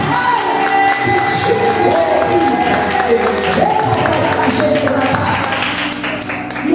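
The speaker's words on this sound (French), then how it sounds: "Si tu es d'accord avec moi, applaudis quelqu'un." Church congregation at a Sunday service applauding: continuous crowd clapping mixed with cheers and voices, with loud music and a talking voice running underneath throughout.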